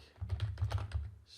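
A short, quick burst of typing on a computer keyboard, about eight rapid, close key clicks in a row, then stopping.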